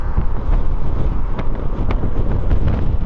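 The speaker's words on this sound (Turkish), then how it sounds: "Ve rüzgar. Bugün de çok rüzgarlı." Strong wind in Istanbul buffets the microphone in a continuous low rumbling roar, loud and gusty for the whole stretch, with no talking.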